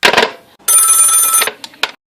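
An old telephone bell rings in a radio play, a bright, loud electric jangle lasting under a second after brief clatter, followed by two short clicks.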